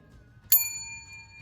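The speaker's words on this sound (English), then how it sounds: "they ring the bell" A bell rung by a visitor arriving at an office gives one bright, clear ding that rings on with a long, slowly fading tone over a quiet, low background hum.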